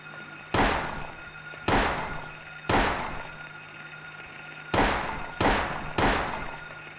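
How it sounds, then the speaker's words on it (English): Five sharp, booming gunshots in Silent Hill, heard at a distance with long echoing tails: three in a row at an even pace, a pause, then two more close together. "I like how you can distantly hear gunshots."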